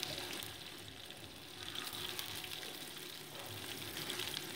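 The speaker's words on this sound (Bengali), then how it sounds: "এবার দিয়ে দিচ্ছি কেটে রাখা আলুর টুকরোগুলো, দিয়ে মোটামুটি এটাকে 2 মিনিট আমি ভেজে নিচ্ছি।" Potato pieces frying in hot mustard oil with panch phoron in a pan, a steady broadband sizzle with gentle swells, close and continuous with no voices.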